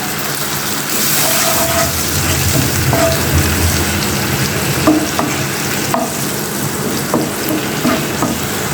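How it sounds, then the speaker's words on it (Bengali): Ground spices with salt, turmeric and chili powder and a splash of water sizzle in oil in a pan while being stirred, giving a steady close frying hiss with repeated scraping clicks of the spoon. "এবার 2 মিনিটের মতো মশলাগুলো কষিয়ে নিব, যতক্ষণ পর্যন্ত মশলার উপরে তেল ভেসে না ওঠে।"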